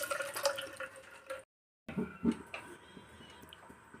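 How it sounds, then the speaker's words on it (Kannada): Cooked toor dal being strained, with water dripping and trickling in soft, uneven splashes, a short silent gap partway through and no speech. "ಬೆಂದಿರೋ ಬೇಳೆನ ಸೋಸ್ಕೊಂಡ್ಬಿಡ್ಬೇಕು."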